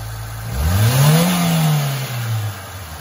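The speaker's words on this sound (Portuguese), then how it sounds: "vamos acelerar." Fiat Palio 1.0 engine revved once from idle, rising to a strong close roar around the middle and then easing back down, alone with no talk.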